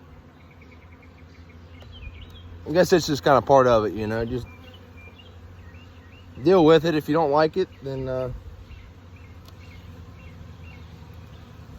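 Honeybees hum around an opened hive from a swarmed colony, a low, steady drone under a voice as he talks in two bursts.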